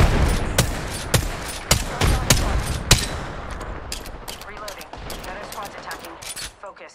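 Rapid bursts of automatic gunfire in the video game Apex Legends, a string of sharp close shots in the first three seconds followed by quieter, more distant volleys.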